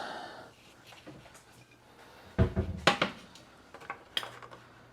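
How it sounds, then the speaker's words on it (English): A frying pan being set down and shifted on a stove before browning sausage, giving a few sharp metallic clanks and knocks around the middle, close and fairly loud, with quiet kitchen background between them. "let's get a pan on the stove for the sausage"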